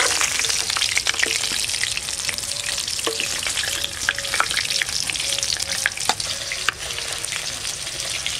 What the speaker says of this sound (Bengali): মাছ কড়া করে ভাজে নিচ্ছি